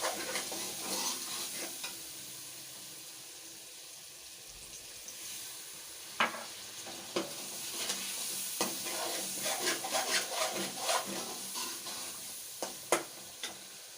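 Turmeric, salt and red chilies sizzle steadily as they fry in a mutton karahi, with repeated scraping and stirring strokes over the continuous hiss, building into sharper clacks toward the end.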